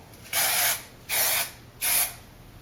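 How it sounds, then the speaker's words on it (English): Three short hissing bursts of an aerosol hairspray can, evenly spaced, each lasting under half a second, close and fairly loud against a quiet background. "And then just spray everything in place"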